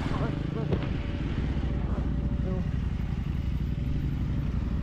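A KTM 450 Rallye Replica rally motorcycle engine droning steadily and close throughout, with clattering and people talking over it.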